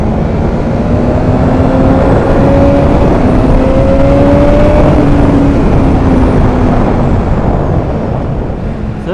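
BMW S1000RR motorcycle engine revving loudly and steadily up close, its pitch rising and holding throughout, restricted by an intake flow restrictor in hot weather.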